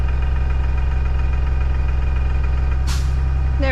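Bus diesel engine running at high idle while the air brake system builds pressure, a steady loud close drone with a throbbing rhythm and a brief sharp hiss near the end.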